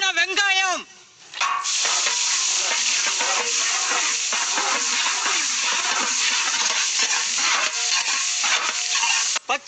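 Loud, steady sizzling of chopped onions frying in a hot pan with coconut oil and ghee, a continuous crackling hiss that starts after a brief pause and runs throughout.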